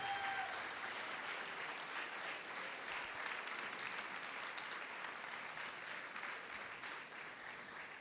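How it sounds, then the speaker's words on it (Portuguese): A church congregation claps steadily at an Easter service for several seconds, a dense, even wash of applause that slowly tapers toward the end. "Dá uma salva de palmas a Ele."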